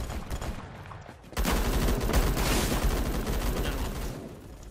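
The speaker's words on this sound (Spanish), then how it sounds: "Esto es una escopeta" Gunfire in the Phantom Forces shooter game, likely a shotgun: a loud burst of shots erupts after a quieter stretch, with dense rapid reports and rumbling echoes continuing to the end.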